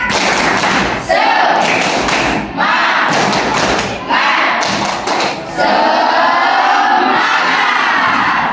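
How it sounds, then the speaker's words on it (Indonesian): Schoolchildren in a classroom perform a rhythmic spirit clap, loud bursts of sharp, patterned clapping broken by brief pauses, mixed with group chanting and shouting voices. "Kita tepuk semangat dulu ya."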